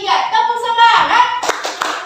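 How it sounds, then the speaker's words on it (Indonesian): A classroom of children claps a quick 'tepuk semangat' routine in bursts, with young voices chanting over the claps and a sharp final clap set near the end. "Oke, kita mulai ya, 1, 2, 3, tepuk semangat."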